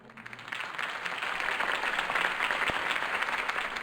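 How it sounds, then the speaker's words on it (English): Crowd applause inside the Batman Telltale game, a steady wash of clapping that swells after the first half second and holds at an even level to the end, with no talk over it. "If only Mr. Wayne, my campaign's largest backer, could have heard that applause"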